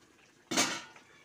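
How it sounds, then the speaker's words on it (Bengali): A lid is set onto a pot of soybean, potato and pointed gourd curry after water is added, making a single close metallic clatter with a short ringing tail, with no other sound around it. "জল দিয়ে ঢেকে দিচ্ছি"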